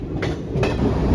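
Visakhapatnam–Kirandul Express train running at speed past Kothavalasa junction, a steady close rumble of wheels and carriage noise with faint clatter, no voices.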